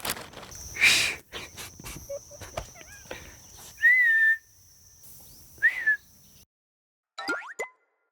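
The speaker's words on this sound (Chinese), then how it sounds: "我就说谁在吹口哨，原来是你们。" People whistle in a few short, clear melodic bursts, each separated by quiet gaps, heard close and fairly loud with light background noise.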